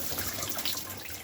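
Water sprays steadily inside a KitchenAid KDTE104DSS0 dishwasher with a newly replaced motor and diverter, a dense continuous hiss heard close with the door open.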